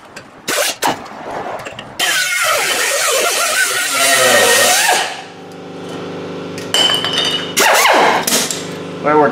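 Asher 4-inch pneumatic air tool runs in loud, close bursts, a sustained roaring whir for several seconds followed by shorter buzzing spurts with pauses between.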